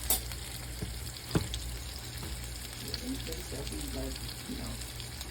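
Onion burgers fry on a hot surface for fried onion burgers, pressed and flipped with a spatula, making a constant sizzle with a sharp scrape or tap partway through, close by under a steady low hum.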